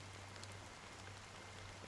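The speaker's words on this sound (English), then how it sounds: "But it's still raining." Rain falls steadily in the video game Honkai: Star Rail, a quiet, even hiss of drops with a faint low hum beneath and no voices.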